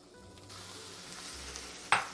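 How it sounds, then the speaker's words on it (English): Onions dropped into hot vegetable oil in a skillet over medium heat, starting as a faint hiss that builds into a steady sizzle, with a sharp close clatter near the end. "Now I'm gonna add my onions."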